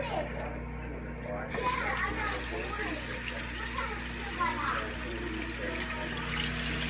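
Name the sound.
vegetable being washed by hand under running water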